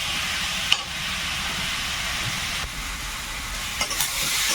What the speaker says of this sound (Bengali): হলুদ গুঁড়ো কচিটাকে এখন একটু ভালো করে ভেজে নেবো